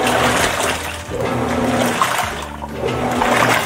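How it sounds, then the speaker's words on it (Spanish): Water gushes and splashes into the tub of a Whirlpool 18 kg top-load washing machine in a loud, continuous rush, with a few brief surges and dips in the flow. "Este es el sonido que escucharás cuando tu lavadora esté llenando la tina."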